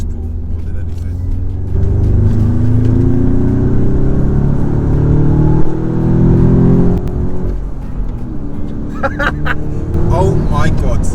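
A 500 bhp Audi S3 with a DSG gearbox accelerates, its engine note climbing in a strong rising drone heard from inside the cabin, while people talk over it.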